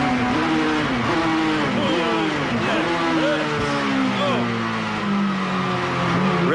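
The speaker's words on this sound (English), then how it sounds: "Really working the Toyota quite hard going into the hairpin there." A Toyota Corona touring race car at Pukekohe, recorded on board, with the engine screaming and rising and falling in pitch through gear changes into a hairpin, loud and continuous throughout.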